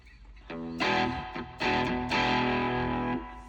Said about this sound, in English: So classic spring reverb.